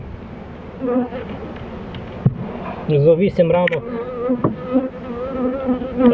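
Steady insect buzzing from honey bees around an open hive, with someone talking over it throughout and brief handling noises midway.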